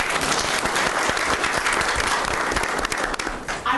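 An audience at an international forum on Afghanistan and Pakistan applauds, dense sustained clapping from a full room, steady and loud throughout before tapering slightly at the end.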